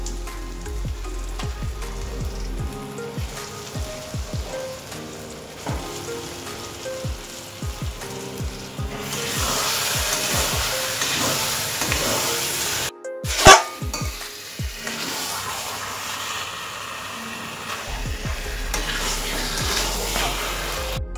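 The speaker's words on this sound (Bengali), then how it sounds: "এবার মাংসগুলো আমি মশলার মধ্যে দিয়ে দিচ্ছি।" Chicken pieces going into fried masala for a desi chicken curry, sizzling steadily in the pan with repeated stirring scrapes and one sharp clatter midway, with no talk.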